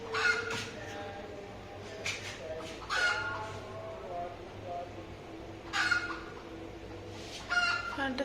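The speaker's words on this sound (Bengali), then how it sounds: "মুরগি ডাক দিচ্ছে।" Chickens calling in a home setting, with a few short clucks and squawks rising in bursts over a steady low background hum, fairly distant and soft.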